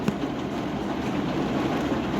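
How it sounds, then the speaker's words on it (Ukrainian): Hail falling during a thunderstorm, a dense, steady rattling patter on surfaces heard from indoors, continuous and fairly loud with no talking. "Так, а в нас фігаче град."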